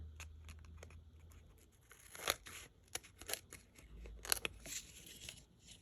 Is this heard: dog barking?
no